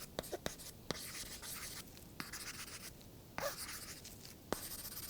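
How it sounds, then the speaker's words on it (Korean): Counterfeit Apple Pencil 2 writing on a paper-texture screen film, giving a close, soft scratchy drag broken by sharp little taps as the tip meets the surface in irregular strokes. "짝퉁 제품으로 썼을 때 소리 한번 들어보시죠"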